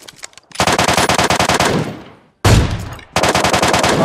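PUBG Mobile gunfire comes in loud, close automatic bursts of rapid shots, with a brief gap and then another burst, and no talking.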